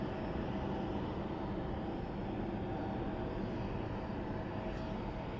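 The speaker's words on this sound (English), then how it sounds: "He had him taxi up the runway and just for positioning, I guess, spin around and let 2 aircraft depart." A jet aircraft taxis on a runway at San Diego's airport, giving a steady, fairly loud broadband engine roar that holds unchanged throughout.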